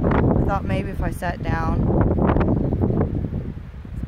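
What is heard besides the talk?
strong wind blowing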